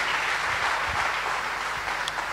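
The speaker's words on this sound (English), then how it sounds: "Shall we clap for Jesus?" Church congregation at a sermon claps together in a steady, dense wash of applause, moderately loud and continuous for a couple of seconds with no talk over it.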